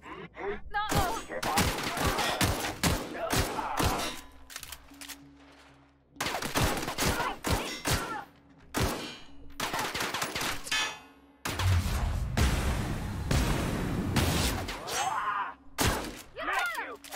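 Gunfire in the video game The Outer Worlds, bursts of rapid shots coming in clustered volleys with short gaps between them, loud and close, with some game noise between the volleys.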